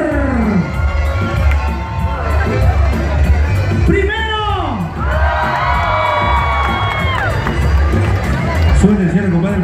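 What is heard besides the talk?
crowd applauding and cheering for the second stripper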